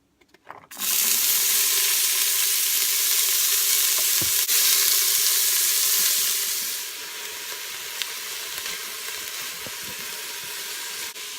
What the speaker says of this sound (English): I'm going to saute the ground pork and onions in a little bit of oil right in the pot